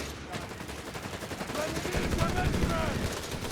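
Elite 82nd Airborne paratroopers fire on German Grenadiers and Jägers in Company of Heroes 3, rapid rattling bursts of rifle and machine-gun fire building steadily in loudness, with a commentator talking over the battle.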